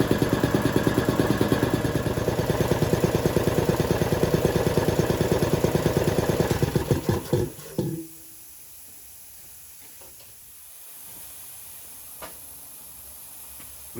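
A restored air compressor runs with a fast, steady mechanical chugging beat, loud and close, then shuts off abruptly, leaving a quiet hiss of escaping air and faint ticks.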